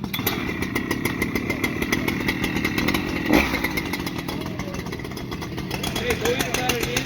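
A large chainsaw, either a Husqvarna 3120XP or a Stihl MS881, drones steadily while cutting through knotty wood, loud and constant, with people talking faintly underneath.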